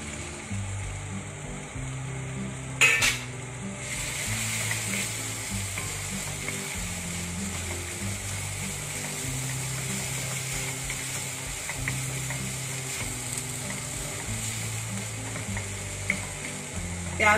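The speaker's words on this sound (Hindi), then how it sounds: "तब इसके अंदर बारीक कटा हुआ प्याज ऐड करेंगे" Finely chopped onion sizzles in hot oil in a pan while cooking Amritsari chole, a continuous moderate frying hiss with occasional stirring scrapes and no talking.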